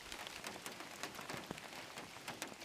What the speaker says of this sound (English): The rain equalizes every surface with its drumming